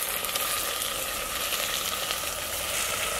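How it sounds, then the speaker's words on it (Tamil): Pirandai (adamant creeper) sautéing in hot oil with rock salt, a steady, close, crackling sizzle that runs without a break and with no talking. "இப்போ நம்ம இதையும் சேர்த்து எண்ணெயில் வதக்கிடலாம்"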